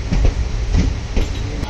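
A passenger train bound for Goa rolls along with a loud, close rumble and rhythmic clickety-clack of wheels over rail joints, heard from on board with no talk.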